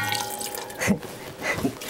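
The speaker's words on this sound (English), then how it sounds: "I'm going to add a little more water to this." Water poured into a soup pot of chicken spinach ravioli soup in a home kitchen, giving a couple of short splashing, dripping bursts close by with quiet moments between.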